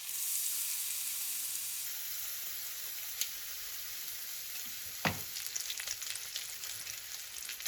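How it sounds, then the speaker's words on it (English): Beef brisket sears in a scorching hot oiled pan, giving a steady bright sizzle and hiss with a few sharp pops and spits, close and fairly quiet, with no talking. "We need the pan scorching hot, add some oil, and give the brisket time to brown."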